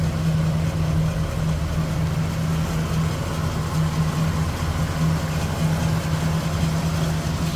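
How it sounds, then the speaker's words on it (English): A 1978 Chevrolet Camaro engine idling smoothly, a steady low rumble with an even hum that stays constant and close throughout, with no talking. "Smooth running engine."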